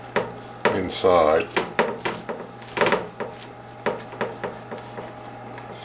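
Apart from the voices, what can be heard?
knife cutting through cooked meatloaf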